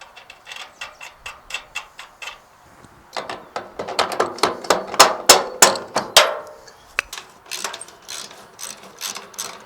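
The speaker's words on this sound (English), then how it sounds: "we're going to begin to take apart all the bolts and nuts on this thing to remove the old ones" A ratchet wrench loosening the bolts and nuts on a wheelbarrow: sharp, rhythmic clicking runs, faster and louder in the middle, close and with no talk.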